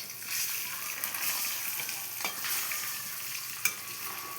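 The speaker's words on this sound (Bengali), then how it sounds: "এই লাল লাল করে ডিম আমার ভাজা হয়ে গেছে বন্ধুরা" Eggs fry in a pan until reddish, giving a steady, close sizzle and crackle with stirring scrapes and a sharp spatter near the end.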